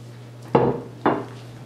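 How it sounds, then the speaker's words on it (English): Two distinct knocks of a utensil against a bowl while flaxseed wrap mix is stirred into water, close and clear over a steady low hum, no talking. "dump the contents in, and just stir it up"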